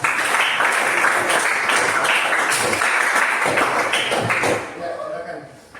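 A seated audience applauds a classroom presentation with a dense, loud burst of clapping that holds steady before thinning out and fading, while a voice talks over it.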